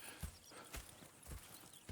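Hooves clip-clop at a steady walking rhythm in Red Dead Redemption 2, four distinct thuds over two seconds, fairly close and alone without talk.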